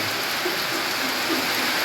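Heavy downpour on a school campus among trees, a dense, steady hiss of rain falling continuously and evenly, close and enveloping.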